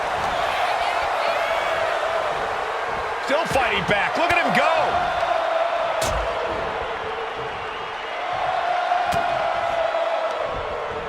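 A virtual arena crowd in the WWE 2K25 wrestling game during a King of the Ring event roars steadily throughout, with a commentator talking over it.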